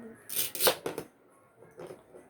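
A few quick knife cuts on a tabletop in a home kitchen, several sharp close chops in a short burst, then softer taps after a pause.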